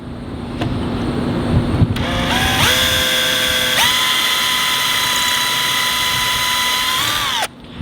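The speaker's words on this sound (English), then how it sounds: "you're going to drill a pilot hole." Power drill boring a pilot hole for a boat transducer adapter: the motor whines up in steps to a high steady pitch, holds for several seconds close by, then cuts off abruptly near the end.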